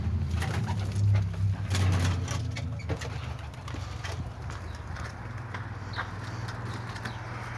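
Domestic pigeons coo in low, throaty rolling bursts close by during an outdoor flight session, over a steady background hum with occasional faint taps.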